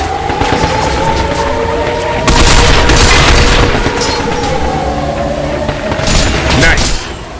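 Dense gunfire and booming blasts in the video game Binary Domain as robots are shot in the head, loud and continuous with swells of heavier impacts, under talking voices.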